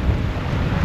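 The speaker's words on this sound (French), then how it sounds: "Il y a un vent de dingue." Strong wind buffets the microphone in a loud, continuous low roar, with the rushing water of the Cascade d'Ars waterfall underneath.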